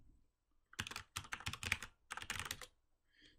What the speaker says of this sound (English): Still can't see what I'm typing